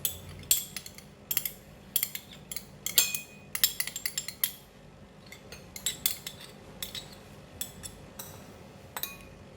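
Spoon clinks against a small bowl while onion oil, pepper, oyster sauce, light soy sauce and sesame oil are stirred together into a sauce, giving a run of sharp, irregular metallic taps at close range with no talking.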